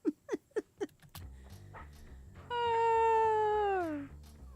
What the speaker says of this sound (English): sometimes there's a cat up here